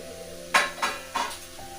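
A spoon stirs milk curry seasoned with black pepper powder in a metal pot, giving three distinct clinking scrapes against the pot over a quiet background.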